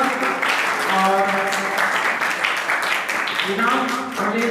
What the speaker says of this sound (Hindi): जोरदार ताली से स्वागत करें तीनों बच्चों का।